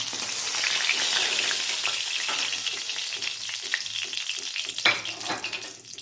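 Bori lentil dumplings fry in hot oil after fish for a bottle gourd fish dish, a continuous bright sizzle with scattered small pops and a sharper crackle near the end, heard up close.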